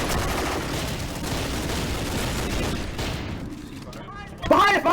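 A rebel squad fires a volley of gunfire in a Half-Life 2 roleplay game: a dense burst of overlapping shots, loud and close, that thins out after about three seconds, with a sharp voice cutting in at the very end.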